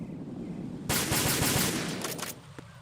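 Rapid automatic gunfire from Metal Gear Solid 2: Sons of Liberty, a dense burst of loud shots starting abruptly and rattling on for about a second and a half before tapering off, with one last isolated shot.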